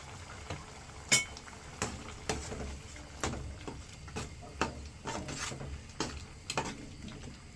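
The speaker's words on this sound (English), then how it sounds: "I'm just going to add this to it, and I'll give it a stir." A spoon stirs a pot of okra soup after native spice goes in, producing a steady run of soft scrapes and sharp taps against the pot, close and irregular with a faint sizzle underneath.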